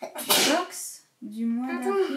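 A single sharp sneeze bursts out at the start, quickly followed by a person speaking.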